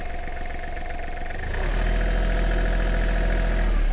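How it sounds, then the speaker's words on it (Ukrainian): A Kubota GL23 tractor's diesel engine runs steadily, then throttle is applied about halfway through and the engine note deepens into a louder, heavier, muffled drone that holds to the end, close by and with no talking. "Тобто звук не дзвінкий, а він глухий. Навіть якщо ми будемо давати газ."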